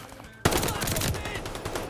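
Rapid automatic gunfire from Call of Duty Vanguard bursts in abruptly after a quieter moment, a dense stream of loud, close shots that keeps going without a break.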